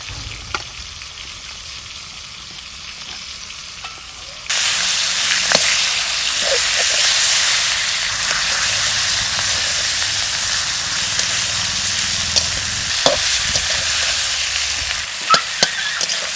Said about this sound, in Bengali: ভেজে নেব বেশি ভাজলাম না অল্প ভেজে নিলাম তেজপাতা